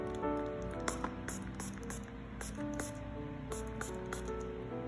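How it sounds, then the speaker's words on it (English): CND Solar Speed Spray nail drying spray gives a series of short, close hissing bursts in an uneven rhythm over a steady background hum, with no talking. "Now for the Solar Speed Spray."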